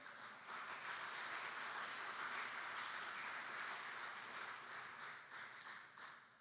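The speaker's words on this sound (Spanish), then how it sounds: "Dele palmas al Señor en esta mañana" A church congregation claps together during a morning service, a dense, sustained wash of many hands that stays loud for several seconds before tapering off, with no voices over it.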